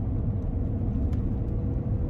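Manual-gearbox Porsche Cayenne held in third gear through corners on icy backroads, a steady close engine drone and low road rumble running unbroken throughout, no voices.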